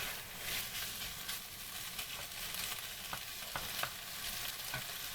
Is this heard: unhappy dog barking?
no